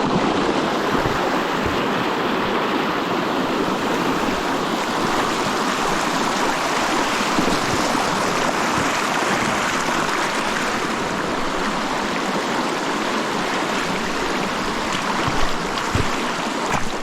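River rapids rush steadily through a trout stream, a broad continuous roar of churning water at close range with little variation and no voices.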